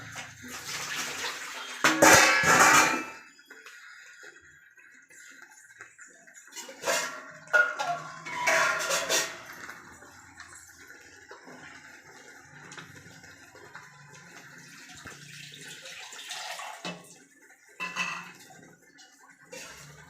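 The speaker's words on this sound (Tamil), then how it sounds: "இவ்வளோ மட்டும்தான் தண்ணி சேர்க்குறேன் நான்." Water pours into a pot of chicken curry in a couple of short bursts, with quieter clinks and kitchen handling sounds between them.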